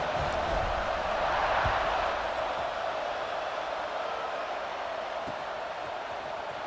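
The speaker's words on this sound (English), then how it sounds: "this crowd is feeling themselves after that last drive" Stadium crowd at a college football game in EA Sports College Football 26, a steady broad roar of many voices that swells slightly around two seconds and then holds at a level, sustained wash with no clear single voices.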